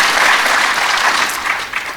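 An audience at a gold investment panel discussion applauds, a dense, steady patter of many clapping hands that fills the whole moment and fades slightly at the end, with no voices over it.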